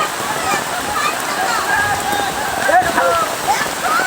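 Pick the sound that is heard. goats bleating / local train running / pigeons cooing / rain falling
rain falling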